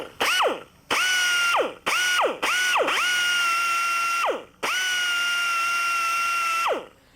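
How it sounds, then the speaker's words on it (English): A die grinder dishes out a rotten boat transom in a series of high-pitched whining bursts, each spinning up, holding a steady tone and winding down, loud and close with no talk. "we're going to take a die grinder and we're going to dish these things out."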